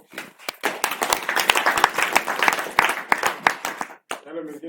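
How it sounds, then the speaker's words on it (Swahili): An audience at the launch of a training workshop for medicinal-tree stakeholders claps in a lively burst of close, sharp handclaps that thin out toward the end, where a voice briefly begins. "tupige tena makofi."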